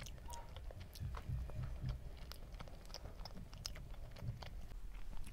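Cheesy, creamy, sauce-heavy food is chewed close to the mic in steady, soft, moist bites and crunches, with no talking.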